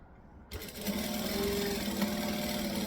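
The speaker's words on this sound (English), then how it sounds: "put them right sides together and chain stitch the lot of them" A sewing machine chain stitches fabric pieces, starting after a brief quiet moment and then running in one continuous, even whirring hum to the end.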